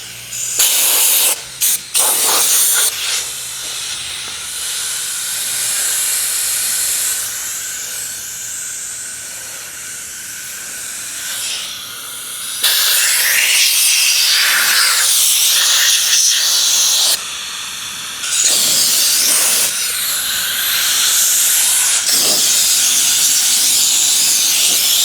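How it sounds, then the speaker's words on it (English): Compressed air blasts dust and particles off a prepared surface ahead of sealer and paint, a loud broadband hiss in several long bursts with short pauses, getting louder in the second half, with no talking. "I'll probably use a little air to blow it off."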